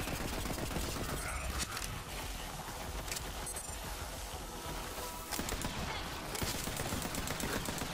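Rapid gunfire from a weapon in the video game Borderlands 3 fills the whole stretch as a dense, loud, continuous barrage of shots with little pause, layered with other game effects.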